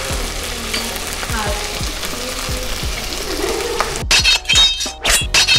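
Green chillies and whole pepper frying for a Kerala-style mutton stew, a steady sizzle with rhythmic stirring scrapes and a few clinks near the end; no one speaks.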